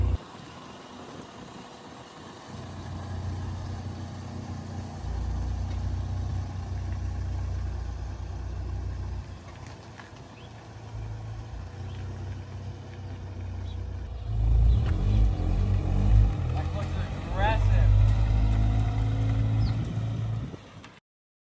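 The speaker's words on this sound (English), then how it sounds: "The car was running absolutely phenomenally with the re-put together motor again." A Honda Integra GS-R with a rebuilt engine and stage 2 clutch runs steadily in a low, rumbling drone, growing louder and rougher toward the end as it revs up, with no talk over it.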